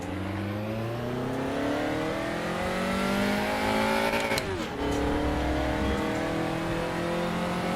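A race car engine in the RaceRoom racing game revs loud and close, climbing steadily through gears with a brief dip and shift midway before climbing again, continuous and alone.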